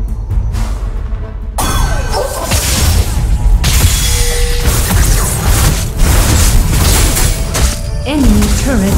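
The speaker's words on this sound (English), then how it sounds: "Enemy turret destroyed." An enemy turret in League of Legends: Wild Rift is destroyed with loud crashing, shattering booms and whooshing effects over busy game sound, while a voice announces events.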